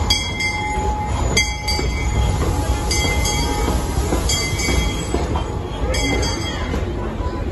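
A Disneyland Paris park train pulls into a station with screeching wheels and repeated rhythmic clicks over a loud rumbling background, with faint voices mixed in.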